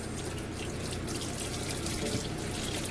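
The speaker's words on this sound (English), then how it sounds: "I'm going to rinse that off just a little bit." Tap water running steadily into a sink while a no-bake cake utensil is rinsed, a loud, continuous close splashing rush with no voices.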